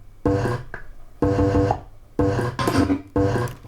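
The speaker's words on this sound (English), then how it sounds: "So that's just breaths chopped up" Chopped-up clarinet breath samples form a hi-hat-style rhythm, with bursts of breathy, rasping noise cut into short repeating chunks, close and dry with no talk over them.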